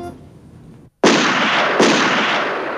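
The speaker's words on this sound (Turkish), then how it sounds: "Silah sesi dışarıdan geldi." Gunshots heard from outside, two sharp loud bangs about a second apart, each trailing into a broad noisy rumble after a brief moment of near silence.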